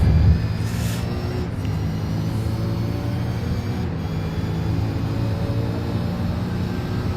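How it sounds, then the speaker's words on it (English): Onboard engine noise from a V8 Supercar lapping a race circuit, a loud, steady low drone with a constant tone running throughout, alone with no talk. "we might jump on board and do a lap of the circuit with Harrison Dengate"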